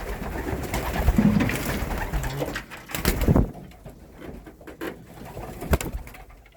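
Racing pigeons coo inside a clean, dry loft, soft repeated calls mixed with rustling and a few sharp knocks and wing flaps nearby.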